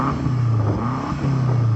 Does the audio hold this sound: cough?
no